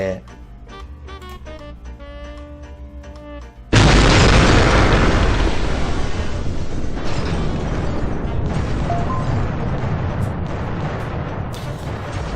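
A melodic game tune in the video game CitySmash is abruptly cut by a massive booming nuclear explosion that keeps roaring and rumbling loudly for several seconds.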